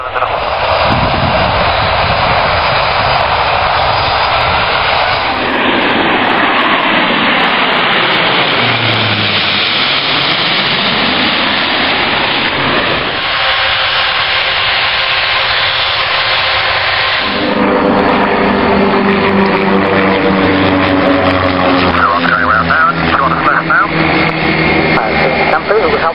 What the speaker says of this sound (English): Takeoff on the runway 31, 970.